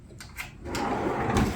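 A wooden drawer in a workshop slides open with a short scraping rumble, close and fairly loud, ending in a brief bump.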